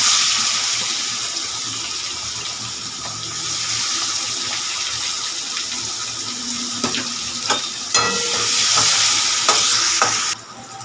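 Chopped onions are added to hot oil with dried chili, bay leaf, cumin and turmeric, and they hiss and sizzle steadily while a utensil scrapes and stirs the pan up close.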